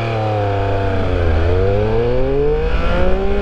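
A 2021 Triumph Speed Triple 1200 RS motorcycle accelerates hard from 0 to 100, its engine note climbing steadily through the gears with a brief dip at a shift, loud and close throughout, with no talk.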